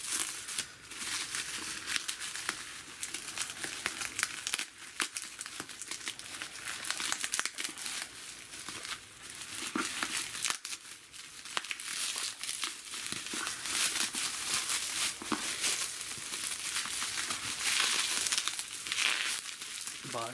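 Packing tape is torn and peeled off a shipping box in a long stretch of crinkling, ripping and crackling, loud and close, with short pauses between pulls.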